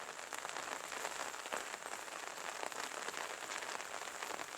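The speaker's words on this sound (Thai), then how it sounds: "ฝนมันก็รินอย่างนี้แหละ" Steady rain falls across rice fields, a dense, even hiss of drops that stays soft and constant throughout with no voices.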